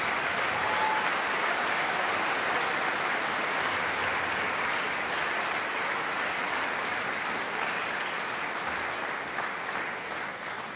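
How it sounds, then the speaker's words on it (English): A concert audience at the ETSU holiday concert applauds the faculty brass and organ prelude players, a broad, even wash of many hands clapping steadily throughout with little change in loudness. "give a warm round of applause to our prelude performers, the ETSU faculty brass and organ"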